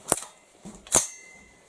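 Two sharp AR-15 rifle gunshots crack at an outdoor shooting range, nearby and distinct, with a softer thump between them and short decaying echoes.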